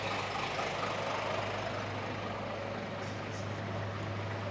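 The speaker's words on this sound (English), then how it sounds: "Oh, there's traffic. It's a big lorry." A big lorry in street traffic, a steady low diesel engine drone that stays loud and close throughout, with broadband road and engine noise and a faint hiss near the end.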